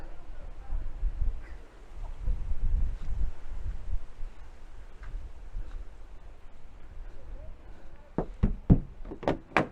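Knocks on a locked door outside a police station, several sharp raps in a quick cluster near the end, following a stretch of wind noise and faint outdoor rumble.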